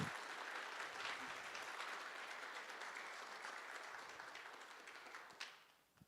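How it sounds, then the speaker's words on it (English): An audience claps warmly at a Guide Dogs for the Blind class graduation, steady applause from a room of people that softens and fades out at the end, fairly quiet overall. "Let's give them a big round of applause for that."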